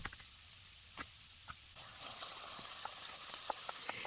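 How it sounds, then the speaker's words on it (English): Vegetables sauté in a pan with a faint, steady sizzle. Small scattered pops and crackles come through now and then, close by and quiet. "here I'm just sauteing the vegetables and then adding the ground beef"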